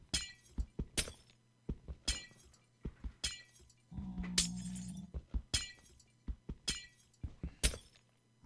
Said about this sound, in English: with all the broken glass sounds.